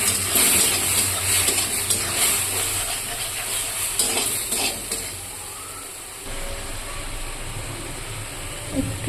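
Onion with turmeric, cumin and salt powders frying in a blackened kadai for fish curry, a steady close sizzle and hiss with occasional scraping stirs running throughout, no talk.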